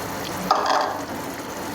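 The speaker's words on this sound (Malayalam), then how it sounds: "ഇനി നമുക്കിതിലേക്ക് കുറേശ്ശെയായി വറുത്ത് വെച്ച ഈ അരിപ്പൊടി കൂടി ചേർത്ത് കൊടുക്കാം" Roasted rice flour is added bit by bit into boiling water in a pot, with a close bubbling hiss and a brief soft stirring burst, steady and fairly quiet.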